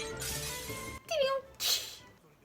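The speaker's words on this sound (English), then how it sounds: "they put a glass breaking over it too" A glass-breaking sound effect in the anime D.Gray-man, a bright shattering crash laid over other effects and speech from the show.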